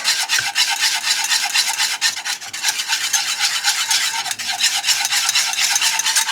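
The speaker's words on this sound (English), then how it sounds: "Whisk all that in together." A thick mixture seasoned with pepper is whisked hard and close up, producing a continuous rough scraping and rasping with a quick, uneven stirring rhythm and no voices.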